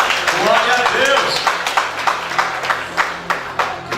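A church congregation claps together, the scattered applause settling into sharp, evenly spaced claps near the end, with a voice speaking loudly over the start.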